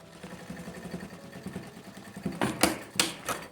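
Sewing machine stitching a securing seam on the ear of a lion cushion, a fast rhythmic whirring patter that grows louder and more clattery toward the end, close and alone.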